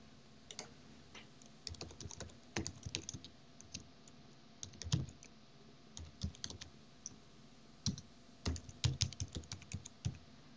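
Steady typing on a computer keyboard while entering an email and password, irregular bursts of close key clicks with short pauses between words, no talking.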